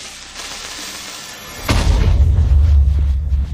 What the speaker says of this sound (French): Merde, je crois que le creeper va exploser